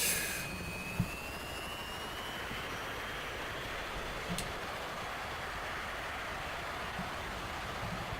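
Su-33 jet engine at full power with heavy brakes on, on a carrier ramp in the DCS flight game: a steady, loud, broadband roar that holds without break, with a faint rising whine above it and a few soft clicks.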